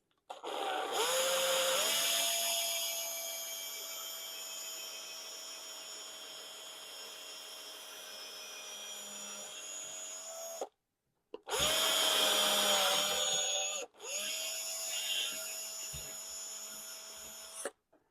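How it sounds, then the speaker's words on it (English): A power drill with a 1/8 inch bit whines steadily while boring into a wooden chair, pausing briefly twice before starting again, close and loud. "I've got an 1/8 inch drill bit, and what I'm going to do is I'm going to drill down"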